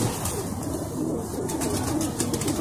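A female Neeldumi pigeon coos steadily and close by, its low, soft calls blending into a constant background hiss.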